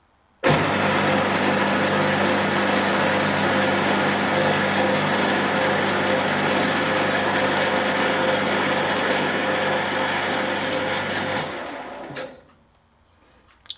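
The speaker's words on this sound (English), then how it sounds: "Now I can drill and ream this to a 1/4 inch diameter hole" A drill and reamer run steadily through a 1/4 inch hole on a small tapping attachment for a universal pillar tool, one continuous loud whine lasting about eleven seconds, then cutting off and fading out.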